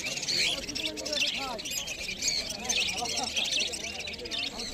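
Budgerigars at the Uluberia bird market chirp and tweet in a dense, continuous chorus of short, bright calls, overlapping steadily at close range with busy market background.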